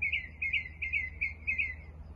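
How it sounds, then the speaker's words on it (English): Birds sing a repeated high chirping phrase about five times in steady rhythm, clear and fairly close over a low background hum. "gently see these beautiful, beautiful birds giving us a little serenade here"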